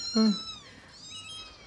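A tiny kitten gives one short, loud meow up close, followed by fainter, thin high mewing that trails off.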